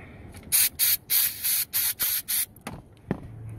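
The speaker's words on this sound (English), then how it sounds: "So you clean it thoroughly just with the spray." Seven rapid hissing bursts of aerosol sensor cleaner sprayed onto a mass airflow sensor in a steady rhythm, loud and close, followed by a couple of softer clicks and rustles.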